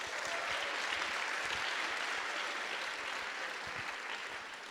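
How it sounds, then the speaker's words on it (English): A large audience at a hackathon closing ceremony breaks into steady, dense applause that stays full and even throughout, with no voices on top. "Let's have a huge round of applause for them"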